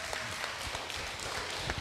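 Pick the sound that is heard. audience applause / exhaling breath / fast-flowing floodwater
audience applause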